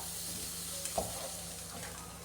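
Coconut-ground chicken curry being mixed in a pan with the flame off, soft scraping and stirring strokes over a quiet low sizzle, with a couple of brief utensil knocks.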